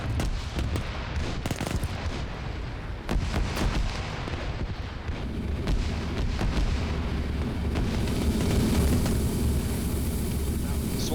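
An artillery barrage of fire pounds away in a StarCraft battle, with repeated booming impacts and crackling bursts that build into a dense roar, while a voice talks over it.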